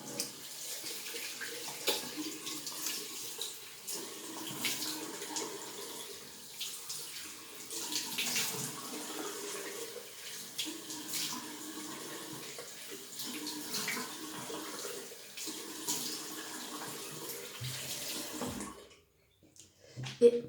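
Tap water runs steadily into a bathroom sink while a face cleanser is emulsified and rinsed off, a continuous close splashing wash that stops abruptly near the end, with no talking.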